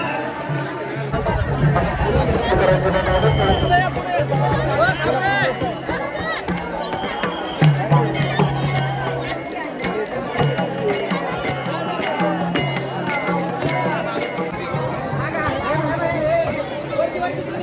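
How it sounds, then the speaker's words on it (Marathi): Dense crowd of pilgrims gathered at Pandharpur on a Friday during the Wari pilgrimage, a steady loud hubbub of many voices and shuffling movement close around, with individual people talking nearby. "शुक्रवारची गर्दी बघा"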